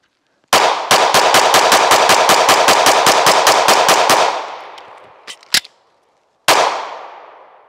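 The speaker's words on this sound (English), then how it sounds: "full mag dump, mag change, one shot." A Springfield Echelon pistol fires a rapid string of about fifteen loud shots, then a magazine change with a couple of metallic clicks, and one more shot that rings out alone.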